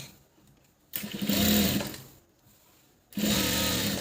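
A sewing machine stitches a double-folded seam on Patiala pants in two bursts of rapid whirring, pausing briefly between runs, close and clear with no talk.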